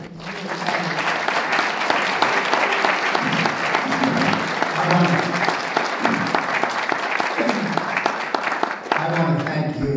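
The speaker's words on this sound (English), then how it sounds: "give him a round of applause" Sustained applause from a conference audience following a keynote address, a dense, even wash of many hands clapping for the full stretch, loud and close, with faint voices mixed in.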